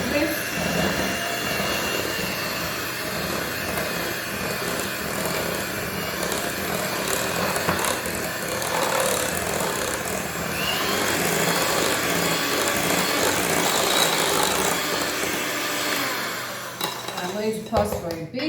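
Coffee cake batter with vanilla being mixed with an electric mixer: a loud, steady whirring motor drone with rattling in the bowl, running almost continuously before cutting out near the end.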